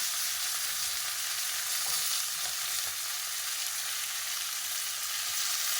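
Curry for potato dum frying in a pan, a constant dense sizzling hiss with faint stirring scrapes, no voices.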